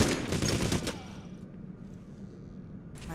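Shotgun blasts from a heist shooter game, Payday: The Heist, sound as a dense cluster of loud booming shots in the first second, then fade into a quieter game bed with a few faint echoes.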